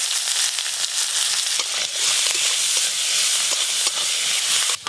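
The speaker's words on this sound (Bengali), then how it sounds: "এঁচড় চিংড়ি রান্নার জন্য চিংড়ি মাছগুলো ভেজে নেব" Shrimp frying in a pan of hot oil, producing a loud, dense, continuous crackling sizzle throughout, close up with no voices.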